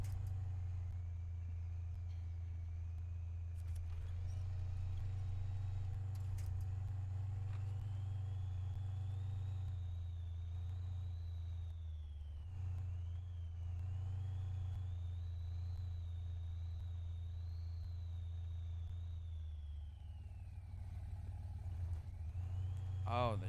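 A Dodge Ram truck rolls downhill towing a trailer, its engine a steady low rumble close by with a faint rising whine, the drone dipping briefly midway and near the end.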